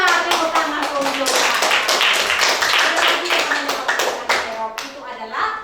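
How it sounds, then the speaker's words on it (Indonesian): A classroom of Indonesian schoolchildren claps together in a lesson, a dense burst of hand claps filling the room for several seconds before thinning out near the end, with young voices mixed in. "Tepuk tangan untuk"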